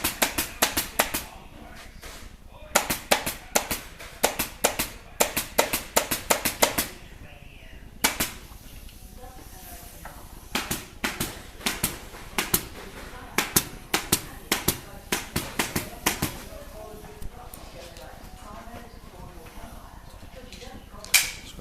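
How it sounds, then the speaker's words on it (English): A pneumatic staple gun fires staples into sofa upholstery in rapid bursts of sharp cracks, with pauses and then steadier single shots at close range. "uses the staple gun to attach the recon blocks in the correct position"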